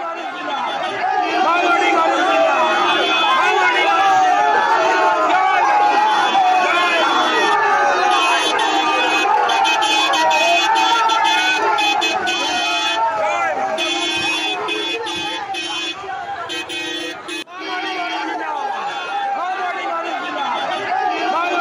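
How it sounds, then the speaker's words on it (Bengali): A crowd outside a vote counting centre in Basirhat chants Joy Bangla slogans around BJP candidate Rekha Patra after the 2024 Lok Sabha result, a loud, dense roar of shouting voices with car horns sounding nearby. "তাকে ঘিরে জয় বাংলা স্লোগান।"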